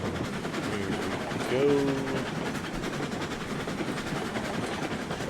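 A locomotive runs in the video game RailRoads Online, giving a steady rolling rumble with clickety-clack and a brief whistle note, while someone speaks briefly over it.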